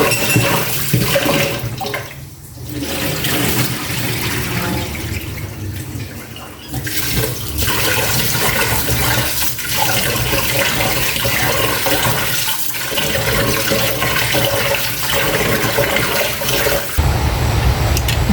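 Something is washed under a steady stream of running water, a continuous close rush with brief dips, during a rainy day; no voices.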